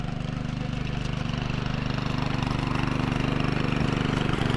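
A tractor engine runs steadily at idle in a Konkan rice field at planting time, a low, even throbbing rumble that stays constant and close throughout.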